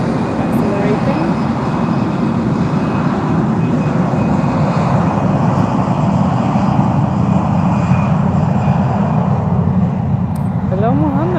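An Airbus A320 accelerates down the runway for takeoff at Lisbon Airport on a sunny afternoon, its engines a steady, loud broadband roar that holds throughout, with a rising whine near the end.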